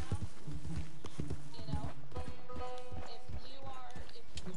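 Horse hooves clip-clop in the Red Dead Redemption 2 video game, a quick, steady trot heard close by while someone talks over it.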